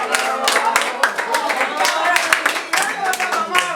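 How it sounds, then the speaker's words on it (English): A small group at a youth facilitation training session gives a round of applause, brisk uneven clapping close by with some chatter mixed in. "A round of applause."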